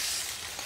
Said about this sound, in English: you hear that sizzle? That means the heat is a little too high on those eggs